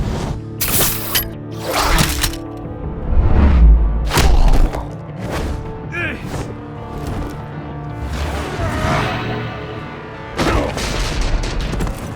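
Gunfire and heavy booms in a Batman video game after a hostage-shooting order, with several loud impacts and thuds in bursts, layered over a dense game soundtrack.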